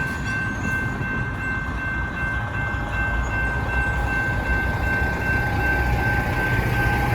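A Norfolk Southern northbound freight train passing, a steady heavy rumble with rolling wheel noise and a sustained high tone, growing slightly louder toward the end.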